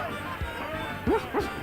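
A dog in the video game The Secret of Monkey Island gives two short, quick barks close together over a low steady background hum.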